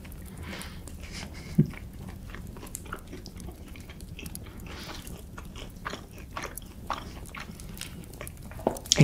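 Biting and chewing a pastry: soft, close crunches and moist chewing sounds repeat quietly and steadily in a calm setting, with occasional sharper crackles.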